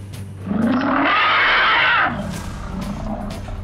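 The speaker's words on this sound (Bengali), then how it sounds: "প্রবল এক গর্জনে আকাশ বাতাস যেন থর থর করে কেঁপে উঠল।" A mother panther's roar as an audio-drama effect in a jungle hunting tale: one huge, sustained, rumbling roar swells in, holds loud for about a second and a half, then trails into a low growling tail.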